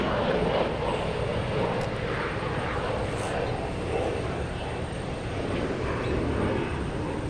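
An Airbus airliner on final approach about two miles out to runway 22 left, its engine roar a steady, loud, broadband rumble that holds unbroken throughout with no other sounds.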